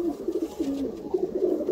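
A pigeon of the Andhra Lalful breed coos close by in short, repeated throaty phrases, soft and alone, with no talking.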